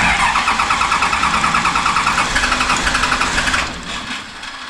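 An off-road rollback truck's engine cranks with a rapid rhythmic chug as fuel is pumped in, then the cranking stops and a quieter low hum is left, close and fairly loud.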